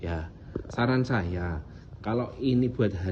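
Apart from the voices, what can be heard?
No everyday noises stand out.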